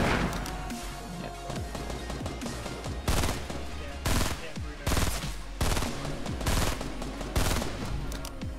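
Sniper rifle in Fortnite firing in evenly spaced loud shots, about five cracks roughly a second apart, over dense busy game noise and gunfire.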